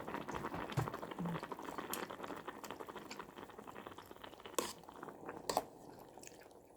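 Liquid boiling hard in a pot of noodles, a dense bubbling churn with a few sharper pops and splashes toward the end.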